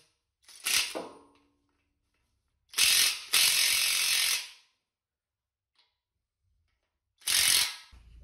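A ratchet wrench tightens a lock nut on an Audi in a car repair shop, clicking in three separate bursts of rapid pawl ratcheting with quiet gaps between them, close and clear without talk.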